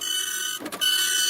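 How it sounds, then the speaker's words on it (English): An office fax machine in Japan sends and receives, giving a continuous high electronic tone interrupted by a brief lower burst and a short gap before the tone resumes, close and loud. "It also makes a horrible sound when sending and receiving faxes."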